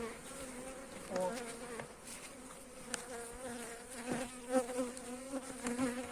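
Honeybees of a Belfast hybrid colony drone steadily around an open hive, a close, continuous buzzing that swells and fades as individual bees pass near, with no voices.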